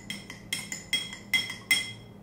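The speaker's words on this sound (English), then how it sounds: "Let's take our spoon and give it a stir first." A metal spoon clinks against a glass while stirring lemon juice into a sugar mixture, with six or seven bright, ringing taps at an uneven rhythm, close and clear with no talking.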